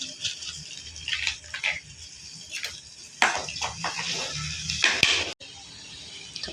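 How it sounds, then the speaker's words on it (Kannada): Cashews fry in a pan with a close, fizzy sizzle broken by bursts of crackling and spitting, the loudest flare-up coming near the end before a brief drop. "ಸ್ವಲ್ಪ ಕಾಜು ಫ್ರೈ ಮಾಡ್ಕೊತಾ ಇದ್ದೀನಿ."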